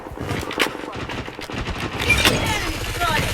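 Rapid bursts of automatic gunfire and single shots ring out in the Blood Strike shooter game, dense and loud, with a voice speaking over the shooting.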